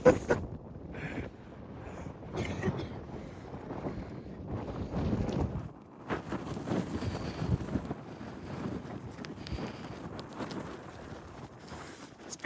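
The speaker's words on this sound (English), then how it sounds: "Wow, this wind wants to blow my hat off." Strong wind buffets the microphone on a desert trail through Arches National Park's Devil's Garden, a steady rushing roar with heavy low rumble and gusty surges throughout, loud and close, with no voices.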